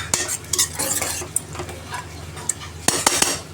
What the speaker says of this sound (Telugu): ఇలా 5 మినిట్స్ మగ్గినాక బాగా కలుపుకొని